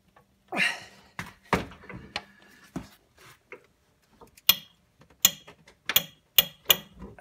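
A wrench working an 18 mm bolt on a 2010 Ford Taurus SHO engine: sharp metallic clicks and ratcheting bursts, irregular at first then a steadier run of loud close snaps, with no speech.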